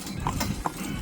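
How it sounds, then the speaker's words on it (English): A horse gallops with quick, rhythmic hoofbeats clip-clopping close by, a soft low rumble and faint breathing-like noise running underneath. "Oh, I love it when he does that gallop."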